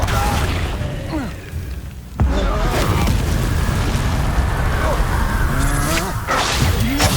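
Confringo fire spell blasts in Hogwarts Legacy combat, a sudden loud boom near the two-second mark followed by sustained crackling, whooshing spell effects and game noise, with voices talking over the action.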